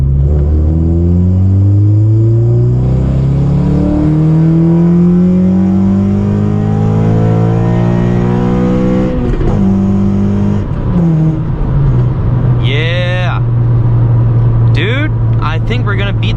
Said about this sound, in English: with these parts that I put on and the tuning from Josh, we were able to unlock that signature, VTEC sound